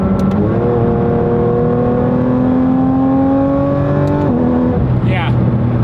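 The engine of a Porsche 992 GT3 RS fitted with a titanium exhaust drones loud and close at steady cruising revs, its pitch climbing slowly before it drops briefly and settles again. A voice speaks faintly underneath.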